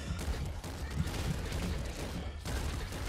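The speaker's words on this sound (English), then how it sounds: "I'm going to go with a Pop Cannon." Pop Cannon weapon fire in the Nuclear Throne Ultra Mod video game: a dense, continuous volley of rapid shots and bursts lasting about three seconds, loud and busy with no pauses, with brief dips in the barrage.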